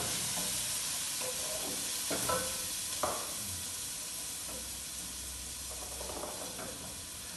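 Garlic goes into a hot pan of oil with stockfish, setting off a steady sizzle and hiss, with a few louder crackles and clinks as it is stirred, and no voices.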